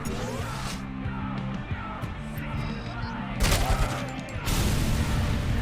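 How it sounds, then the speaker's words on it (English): Explosions and heavy gunfire in Robocop: Rogue City, with a dense rumbling low-end texture, a loud burst around the middle and another sustained blast near the end, close and forceful. "I think the grenade blew up on someone else too"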